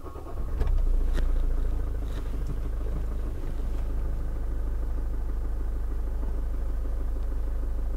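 A Toyota Avensis is started with the key while the clutch is fully pressed. The engine cranks and catches, then settles into a smooth, quiet idle that holds steady without any voices.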